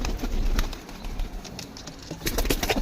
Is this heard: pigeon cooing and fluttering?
yes